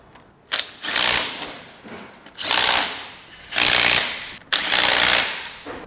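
Impact wrench tightening wheel nuts on a Nissan GU/GQ Patrol, four loud rattling bursts of about a second each with short pauses between, close up and without talk.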